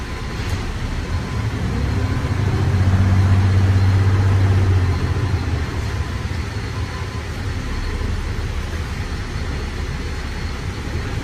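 A 2019 Mack Anthem 64T truck runs with a steady low diesel rumble that swells slightly midway, heard up close and alone without any talk.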